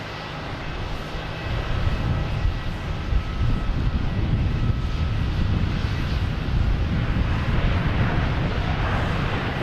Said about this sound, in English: we have Delta coming in from San Juan, an A321 Neo,